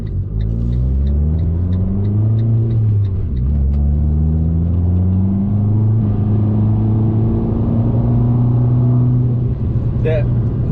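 Abarth turbo hatchback on the road, its steady engine drone and rumble rising and falling in pitch through gear changes, loud and close from inside the cabin.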